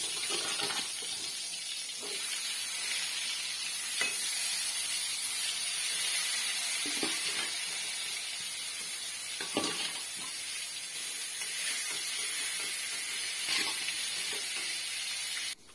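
Salted, turmeric-coated eggplant fritters fry in a pan with a steady, loud sizzle that continues throughout, broken by a few faint clinks and stirring sounds.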